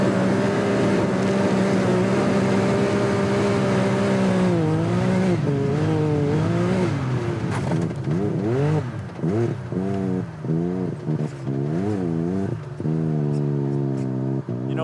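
A Can-Am Maverick X3 fitted with an MBRP performance exhaust idles with a loud, deep drone, then is revved repeatedly in quick rising and falling bursts, close and alone.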